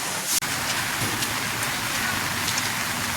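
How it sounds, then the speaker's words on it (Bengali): Steady rain falls in a continuous hiss, with a single sharp click near the start. "গত 24 ঘন্টা থেকেই বৃষ্টি পড়ছে"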